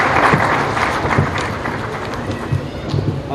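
An audience at a memorial tribute event applauds to welcome a singer onto the stage. The clapping is loud and sustained, with uneven bursts and a murmuring crowd around it.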